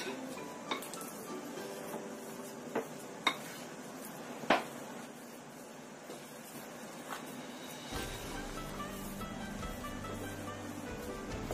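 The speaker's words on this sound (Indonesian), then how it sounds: "Ini kita aduk sampai rata." A spoon scrapes and knocks against a bowl while krupuk dough mixture is stirred, with occasional sharp clinks over a steady low background, no talk.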